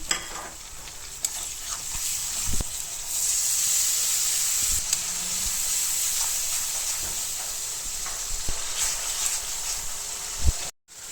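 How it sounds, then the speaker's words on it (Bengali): Boal fish with eggplant sautéing in a pan of spices, a steady close sizzle and hiss with occasional stirring scrapes and clinks, no talk. "মাখানো বোয়াল মাছগুলো দিয়ে দিব মশলাতে বোয়াল মাছ কষানো হচ্ছে"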